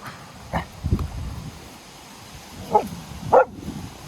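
A wolfdog gives a few short low growls and grumbles, close by, separated by quiet pauses.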